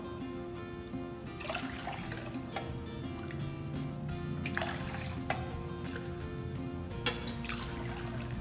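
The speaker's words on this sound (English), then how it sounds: "we're gonna pour 4 cups of warm water in a bowl" Warm water pours and splashes steadily into a bowl, with a few louder gushing surges, close by and with no talking.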